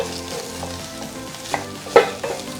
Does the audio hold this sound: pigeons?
no